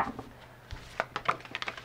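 A large tarot deck is shuffled by hand, producing a quick run of close, soft card slaps and riffling ticks, irregular and quiet with no talking.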